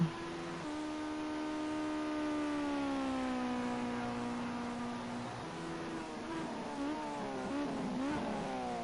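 A Ginetta Junior race car lapping the Monza circuit, its engine a steady, loud, rising and falling drone with clear harmonic pitch, shifting down and then climbing again through the gears.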